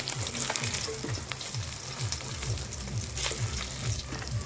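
Rohu fish frying in oil in a pan, a steady close crackling sizzle with a regular pulsing low thump running underneath, unbroken and free of talk.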